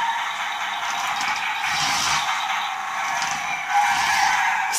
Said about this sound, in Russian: Все, уезжает наша тачка.